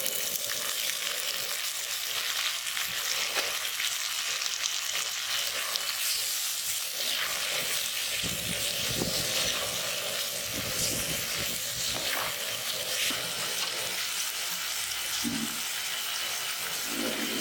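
Ginger and tomato frying for crab kuzhambu, a steady close sizzle and crackle of oil running throughout with occasional stirring noises, no talk.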